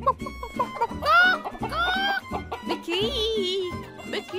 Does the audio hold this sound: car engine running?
no